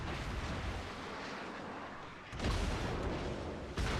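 High explosive shells bursting around a tank in a video game, a continuous roaring rumble with heavy booming impacts swelling in, loud and close.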